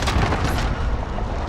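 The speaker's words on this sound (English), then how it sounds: "Throwing stun grenade!" A stun grenade detonates in a Call of Duty Warzone firefight, giving a loud, close boom whose rumbling tail fades quickly.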